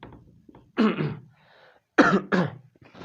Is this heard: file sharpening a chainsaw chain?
no